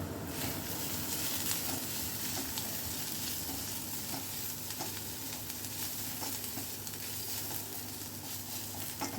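Egg fish devil mixture with onions and gram flour being stirred in a sizzling pan, a steady frying hiss running throughout with scraping spatula strokes, close and continuous.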